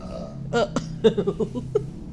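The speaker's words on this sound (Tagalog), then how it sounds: "Oo, dighay." A woman lets out a loud, close burp that breaks into a run of short gurgling, croaky pulses, with a voice heard nearby.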